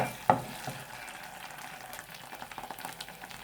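Tomato paste fries in about 200 ml of oil without water, giving a soft, close sizzle with faint stirring scrapes and a sharp knock near the start.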